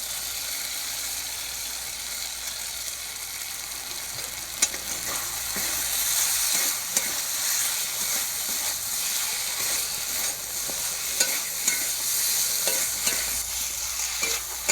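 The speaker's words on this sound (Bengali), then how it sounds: "এবার ভেজে রাখা সবজিগুলো দিয়ে আবারও কিছুক্ষণ কষিয়ে নেব" Fried vegetables cooking in spice paste for a drumstick-and-fish curry, loud constant sizzling with frequent ladle scrapes and clicks as they are stirred, heard close with no talk.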